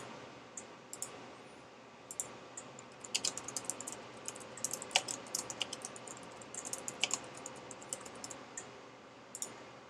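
Someone types a search query on a computer keyboard, producing a quiet, irregular patter of keystrokes that speeds up in the middle, with no voices.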